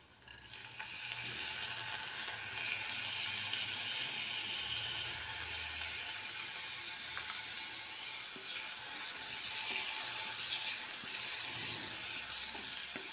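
Onion and soaked toor dal frying in a pan while being stirred, a continuous moderate sizzle with soft scraping and shuffling of the spoon, fairly quiet and without talk.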